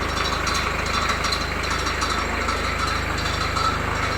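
Land Rover 90 engine idling steadily close by, an even low rhythmic chug with a light rattle and no talking.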